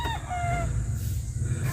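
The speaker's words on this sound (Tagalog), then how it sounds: "Meron palang kulungan ng manok, mga sasabungin yan." A gamecock rooster crows once near a chicken coop, its call rising briefly and falling off over a low steady rumble of outdoor background noise.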